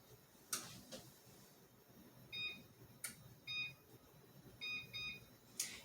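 An electronic kitchen timer beeps in short clustered bursts, three groups of bright repeated tones over a quiet room, with a few sharp clicks scattered between.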